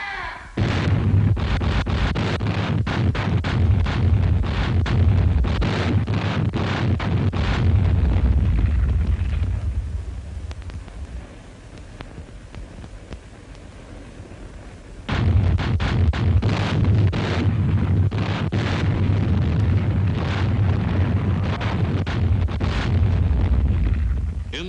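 Battleship naval gunfire and explosions from the Battle of Surigao Strait in the Pacific war, heard as dense, loud, rumbling booms and blasts. They carry on for about ten seconds, ease briefly, then surge again.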